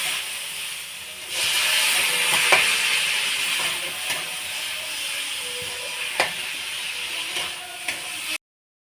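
Semolina sizzles and hisses loudly in a pan as water is added little by little for spicy suji, a sudden burst of steamy hiss that holds steady with a few stirring clicks before cutting off.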